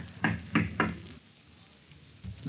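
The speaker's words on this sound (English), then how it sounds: "You knock until somebody answers." Three firm knocks on a door in quick succession sound in a radio drama, moderately close and slightly hollow, followed by quiet.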